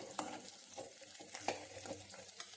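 Ginger and garlic sauté in oil for a sesame peanut chutney, a quiet, soft sizzle broken by light stirring taps and small pops, close up with no one speaking.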